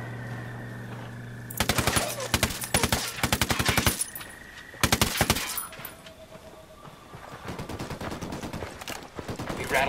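Machine gun bursts in the tactical shooter Ghost Recon Wildlands, several rapid rattling volleys of fairly loud shots separated by pauses, over quieter background game sound.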